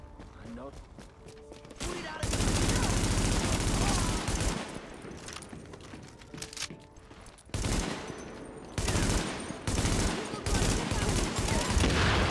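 Bursts of gunfire from the video game The Division, loud repeated volleys and sustained automatic fire with brief lulls between, while someone talks over parts of it.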